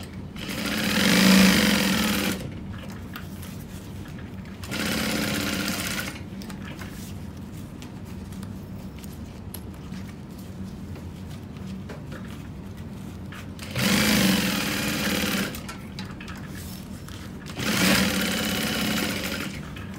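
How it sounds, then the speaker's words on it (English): A sewing machine stitches around all four sides of a wristlet wallet in four separate loud whirring bursts, each lasting a couple of seconds, with quiet pauses between them. "And then we're gonna just sew around the entire thing."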